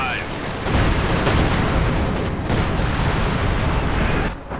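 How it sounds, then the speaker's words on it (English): Booming artillery blasts and explosive rumble from a howitzer firing in the strategy game Company of Heroes 2, loud and dense across the clip with brief rolling bursts, under a commentator's voice. "And howitzer fires."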